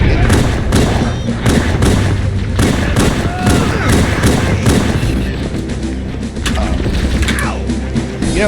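Grenade explosions in the Halo Combat Evolved video game, loud repeated booming thuds mixed with rapid gunfire and mechanical clatter, dense and close throughout.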